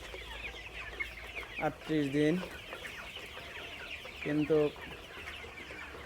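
Sonali chickens on a farm give two short bursts of clucking, one longer and one brief, fairly close over quiet background, while someone speaks between them.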